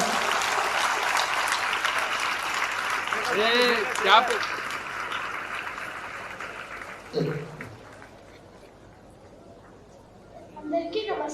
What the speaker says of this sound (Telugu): అంటే మరి క్లాప్స్ కొడుతూ ఉండాలా?